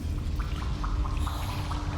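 Water splashing in Hollow Knight, a steady wet rushing wash with faint bubbly splashes layered over loud continuous game ambience.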